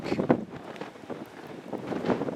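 Gusts of wind at Land's End in Cornwall buffet the microphone in uneven bursts, a rough, blustery coastal rushing with no speech.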